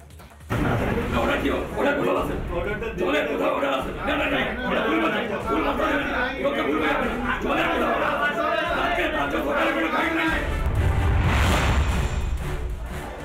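Protesters crowd around the Purulia municipality chairman, a dense clamor of many voices shouting and talking over one another at close range, steady and loud throughout.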